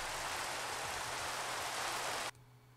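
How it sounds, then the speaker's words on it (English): Pouring rain in the game Minecraft hisses as a dense, steady wash of noise, then cuts off abruptly near the end, leaving near silence. "Out in the rain. In the pouring rain."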